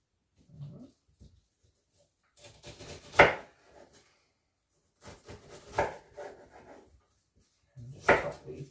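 A knife slices through a white onion on a cutting board in three separated bursts of crisp, close chopping and scraping strokes, with quiet pauses between them and no talk.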